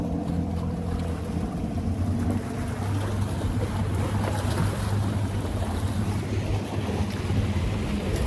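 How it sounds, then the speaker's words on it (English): Big waves roll and crash alongside steady gusting wind, a dense continuous roar of surf and air with no voices over it. "And ooh, big waves."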